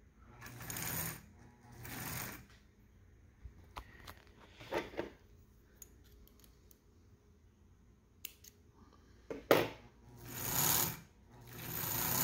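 Sewing machine stitching a top panel of back seat upholstery for a Chris Craft Scorpion boat, with several loud bursts of running stitching separated by pauses and small handling clicks, no talk.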